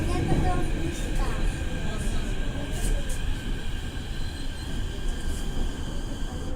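A moving train rumbles steadily on its rails, a low continuous roar with wheel clatter and faint rhythmic clacks, heard from inside a carriage for several seconds at a loud, even level.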